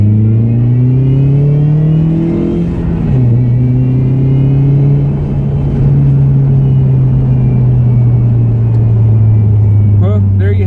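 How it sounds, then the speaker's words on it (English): A car fitted with a Tsudo S2 exhaust pulls hard with the window down, its engine drone rising steadily in pitch, dipping briefly at a gear change, then climbing again loud and close throughout. "There's my tsudo S2 exhaust at work for you."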